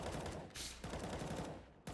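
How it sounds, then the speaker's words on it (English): Rapid bursts of rifle fire from teammates warming up in Counter-Strike: Global Offensive, a dense, continuous crackle of overlapping shots with a brief gap partway through, heard distantly and low in level. "you're not going to be confused by the gunshots, because the teammates are warming up"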